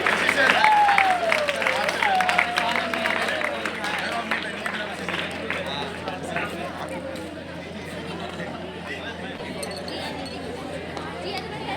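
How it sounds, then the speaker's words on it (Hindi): Crowd applause for the children at a cricket tournament prize distribution ceremony, broad and steady throughout, with chatter and a whistle-like call over it. "एक बार जोरदार इनके साथ इनके लिए ताली बजाइए।"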